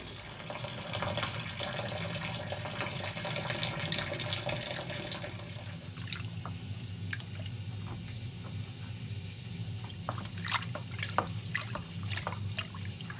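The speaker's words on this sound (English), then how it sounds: "now we have to add 3 litres of boiling water to get the magic on its way" Three litres of boiling water pour into a home-brew IPA mix, a steady close splashing stream for about six seconds that gives way to softer trickles and drips.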